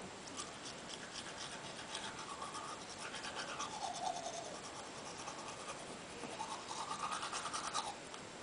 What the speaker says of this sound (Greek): Και το μόνο που κάνουμε είναι να τρίψουμε τα δόντια μας.